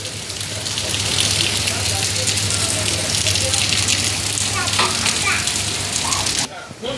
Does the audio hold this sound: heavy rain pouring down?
yes